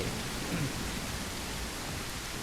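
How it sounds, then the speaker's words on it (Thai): Heavy rain pours down in the horror video game Granny Remake, a dense, even hiss of falling water filling the short stretch with no talk over it. "ฝนมันตกลงมาหนักใช่ไหม"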